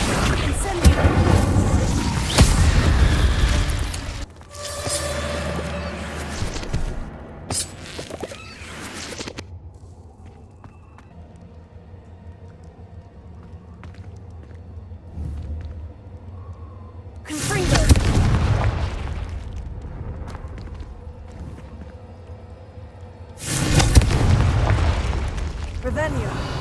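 Confringo and Incendio spells explode in a cave in a video game. Several loud, roaring fiery blasts arrive in separate bursts, with quieter stretches of low rumbling ambience between them.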